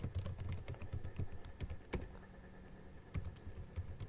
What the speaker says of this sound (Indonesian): jadi kita ketikkan lagi